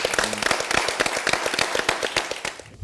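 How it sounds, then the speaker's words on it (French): Brisk applause from a studio audience on a French cooking competition show as contestants leave, crisp overlapping claps at close range, busy and steady throughout. "Merci à vous, on les applaudit."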